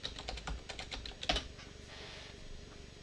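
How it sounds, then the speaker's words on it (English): Quiet, close tapping of a computer keyboard as a password is typed, a quick run of keystrokes ending in a firmer key press, then near silence. "Password. If I type it correctly."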